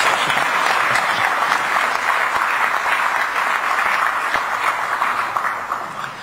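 A crowd claps steadily in sustained, dense applause that fades slightly toward the end.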